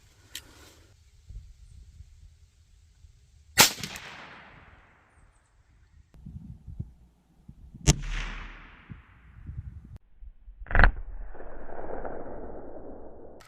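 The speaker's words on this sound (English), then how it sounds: "I'll shoot the Dyna point first on the right, and then I'll shoot the Super X on the left." Sharp cracks from a .22 WMR rifle firing Winchester Dyna Point ammunition, several separate shots spaced seconds apart outdoors, each with a brief trailing echo, with handling noises between them.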